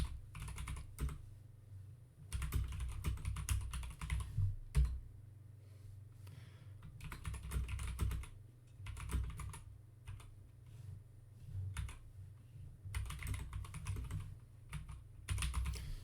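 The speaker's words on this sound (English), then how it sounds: "Now it's just waiting for keyboard input. So if I type something," Typing on an Apple II computer keyboard comes in bursts of quick, close clicking keystrokes separated by short pauses, ending with key presses including the return key.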